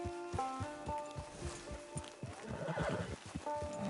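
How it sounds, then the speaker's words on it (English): A horse in the Red Dead Redemption II video game whinnies several times, with rising and falling cries over steady clip-clop hoofbeats, close and fairly loud. "Get your horse."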